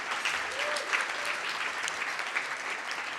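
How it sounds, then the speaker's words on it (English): Steady crowd applause at an awards ceremony, a continuous wash of clapping at moderate loudness with no talking over it. "Let's give him a real big round of applause."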